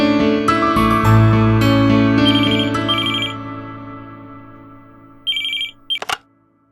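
A household telephone rings in a Tamil TV serial, sounding in short bursts at the close of a swelling dramatic music sting, clear and fairly loud with no talk.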